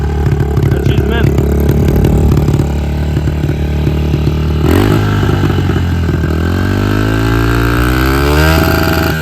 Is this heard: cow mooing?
no